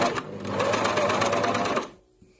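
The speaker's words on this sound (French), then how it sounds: "Je continue de coudre jusqu'à la jointure" A sewing machine runs steadily for nearly two seconds, stitching black fabric, close and loud with a fast even rhythm, then stops abruptly and leaves near silence.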